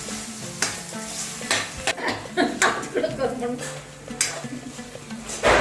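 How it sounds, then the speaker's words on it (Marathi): Diced potato is stirred through sabudana khichdi in a pan, a spoon scraping and knocking in uneven strokes over a light sizzle while someone talks and laughs. "आता टाकतोय बटाटा बटाट्याला एकदम छान एकदम मिक्स करून घ्या पूर्ण"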